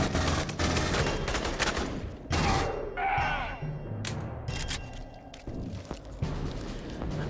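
Bursts of automatic gunfire and sharp shots from the Aliens: Colonial Marines video game, fired at PMC soldiers, with rapid clustered reports, heavy thuds and brief gaps between volleys.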